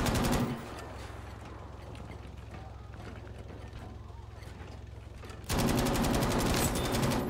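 A machine gun on a Panzer 38(t) tank fires in Battlefield V. A rapid, even stream of shots runs under a steady engine drone, and a louder burst of fire rises at the end.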